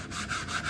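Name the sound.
sanding block rubbing wood edges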